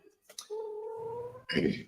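A cat gives a long, drawn-out, wavering meow, loud and close, then a harsher yowl right after, with brief rustles before it.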